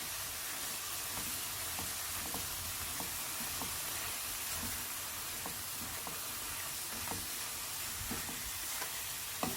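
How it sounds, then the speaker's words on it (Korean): Pork stir-frying in a pan, a steady close sizzle running throughout with frequent short clicks and scrapes of stirring, no voices. "그 다음에 달달 볶을 거예요"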